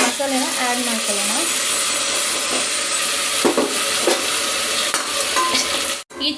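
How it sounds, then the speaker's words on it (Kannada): Masala being fried with onions in a pan, a loud continuous sizzle under repeated spatula stirring and scraping strokes, with a brief drop near the end. "ಈ ಚೆನ್ನಾಗಿ ಫ್ರೈ ಮಾಡ್ಕೊಳ್ಳೋಣ."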